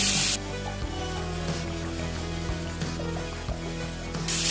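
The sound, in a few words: large prawns sizzling in hot mustard oil in wok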